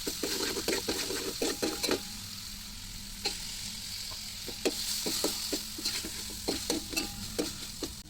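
Chicken with onion and capsicum stir-fried in a pan, a steady close sizzle broken by repeated sharp scrapes and clinks of a spatula stirring against the metal.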